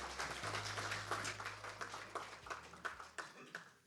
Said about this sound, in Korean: 자 박수로 환영해 주십시오